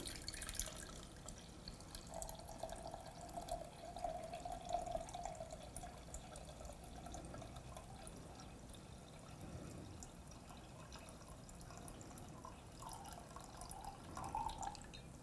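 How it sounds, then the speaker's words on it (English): Calendula hydrosol pours from a container into a beaker set on a scale, a faint, continuous trickle with light dripping that runs on quietly for the whole stretch. "I actually have a beaker that I'm going to pour into because I need 280 grams of our hydrosol."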